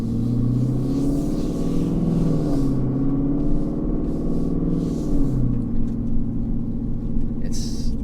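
A car rolls slowly through a parking lot, its engine a steady low rumble with slight shifts in pitch, close and continuous throughout.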